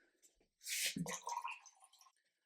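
Hot and cold water poured from a kettle or jug into a glass for morning lemon water, a quiet brief splash and trickle lasting under two seconds, close by with no speech.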